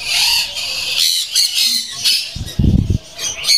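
Loud, harsh squawks from exotic birds at a large animal farm, several sharp calls in quick bursts with a deeper rough cry near the end, close by and with no talk.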